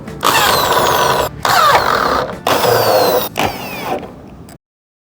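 Power tool driving screws while installing a motor on a Model168 unit, four whirring bursts of about a second each separated by short pauses, close and loud, ending in silence.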